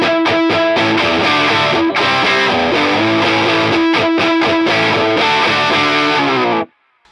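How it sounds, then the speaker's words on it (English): Electric guitar played through an Into The Waves modulating echo pedal set fully dry with high gain as a drive, giving a loud, ratty distorted tone with sustained chords and picked notes, ending abruptly near the close. "if you put the mix all the way to dry signal only and the gain up, you can use this as a drive pedal."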